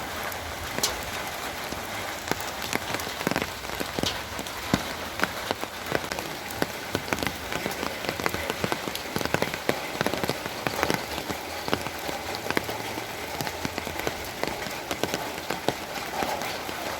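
Steady rain falls on a surface in Jaffna, a dense, continuous patter of drops with scattered louder splashes throughout, close and even in level with no voices.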